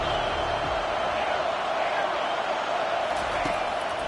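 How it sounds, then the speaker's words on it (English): Football stadium crowd at a Cincinnati versus Syracuse game swelling in noise on a third-down defensive play, a steady wide roar of distant voices held at a constant level throughout. "Decibels rising as the crowd gets behind this defense on third down."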